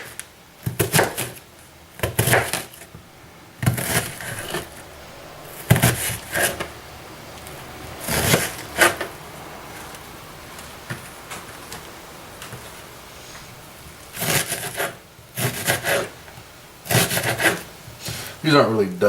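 Knife chopping onions on a wooden board while cooking homemade chilli, with bursts of sharp repeated cuts separated by quiet pauses and some voice in the background.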